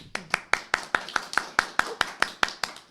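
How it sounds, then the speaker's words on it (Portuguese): A small audience claps for Dani, a guest on a Brazilian talk show about education. About a dozen distinct, evenly spaced claps sound close by, in a steady rhythm of roughly four per second. "Palmas para Dani, gente. Palmas."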